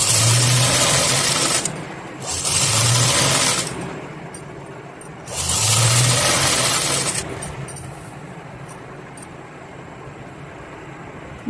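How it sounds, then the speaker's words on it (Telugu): A sewing machine stitches around the cups of a princess-cut blouse, running in three steady whirring bursts separated by short pauses, close and fairly loud. "పెట్టుకున్న తర్వాత ఈ మొత్తం చుట్టుపక్కలంతా మనం స్టిచ్ వేసుకోవాలి."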